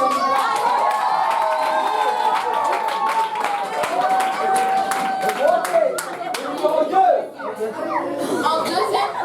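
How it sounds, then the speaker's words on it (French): Audience applauding at a church community event during a prize announcement for a baking contest, lively clapping mixed with cheers, laughter and chatter that grows louder toward the end. "applaudit pour la sœur"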